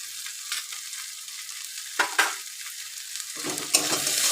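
Chili powder and sugar fry in a pan with a soft, close sizzle, broken by a few louder scraping stirs near the end, no voices.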